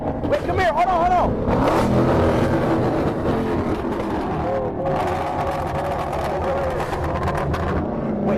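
A 1992 Hemi SRT car engine revving loudly and steadily throughout, with people talking excitedly over it at a car show where fans gather to show off their cars.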